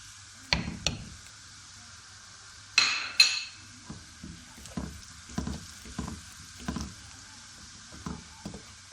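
Spices being stirred into ginger and garlic frying in a pan for a lobia curry, giving a steady low sizzle broken by repeated scraping and clinking strokes of a spoon against the pan, with no talking.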